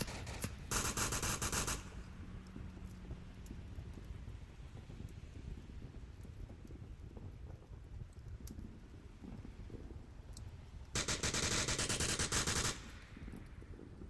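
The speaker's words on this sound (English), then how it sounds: "There are shots coming out from him." Rapid bursts of gunfire from the VR shooter Onward crackle through a dense, noisy battle mix, with loud sustained volleys at the start and again near the end and scattered shots between.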